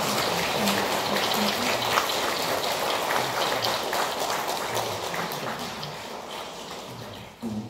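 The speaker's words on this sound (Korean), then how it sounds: "우리 다시 한번 이분들 격려하는 마음에서 큰 박수 부탁드리겠습니다" A Catholic congregation applauds to welcome new catechumens at a Lenten Sunday Mass, a dense, steady wash of clapping that fills the church for the whole stretch and tapers slightly near the end.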